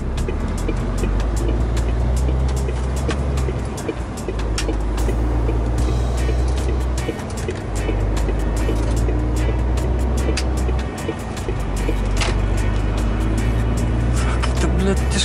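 A car drives along a road toward the autobahn, its engine a loud steady rumble heard from inside with constant road noise and a couple of brief dips, and no talking over it.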